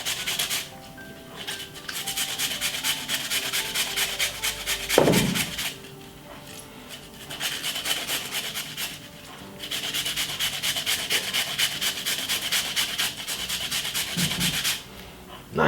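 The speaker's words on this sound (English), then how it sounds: "You notice I'm grating the beetroot at the moment." Fresh beetroot being grated on a small hand grater, a close, rhythmic scraping in repeated bursts with short pauses between strokes, moderately loud against a quiet room.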